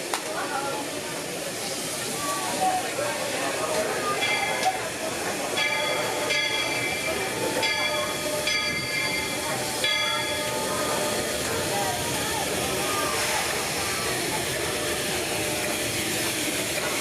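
A steam train on the Walt Disney World Railroad rolls past, coming out of a tunnel, with hissing and rhythmic rail clatter, loud and close, with whistle-like tones and some voices underneath.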